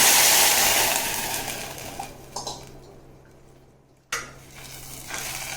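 Water is poured into a hot pan of toasted broken wheat and sets off a loud burst of sizzling that quickly fades, followed by light stirring and clinks of a utensil against the pan.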